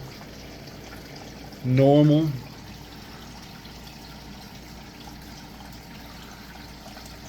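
Water trickling in a small backyard creek of a regenerative ecosystem build, a steady, soft continuous flow throughout, briefly interrupted by one short spoken word from a nearby man.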